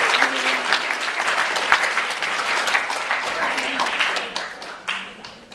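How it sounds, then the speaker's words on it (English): Sustained crowd applause at a model UN conference closing ceremony, thick and energetic with some cheering voices mixed in, staying strong before tapering with a few final louder claps. "Let's give them a round of applause."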